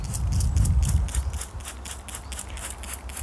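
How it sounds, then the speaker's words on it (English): A handheld spray bottle squirts seaweed foliar feed onto plant leaves in about a dozen quick, evenly spaced hissing spritzes, close by, over a low rumble. "spraying all the leaves"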